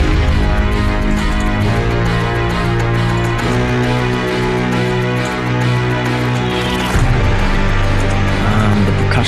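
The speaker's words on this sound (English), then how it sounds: "orchestral hit, which is a sample, brass and a choir" Orchestral hit sample layering brass and choir over a full music mix, loud sustained chords that change pitch in steps, with a bright swell partway through and no speech.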